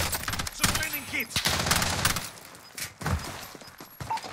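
Gunfire in Call of Duty Warzone, scattered sharp shots and short bursts with uneven gaps, mid-distance and fairly loud, mixed with game effects and faint talk.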